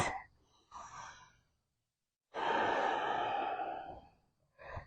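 Deep breaths during a yoga straddle pose: a soft exhale, then a long, fuller breath after a pause, fairly close and quiet, with no talking.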